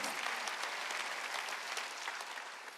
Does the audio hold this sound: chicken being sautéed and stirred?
no